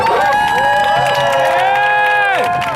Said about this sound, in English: Everybody, can I get a round of applause?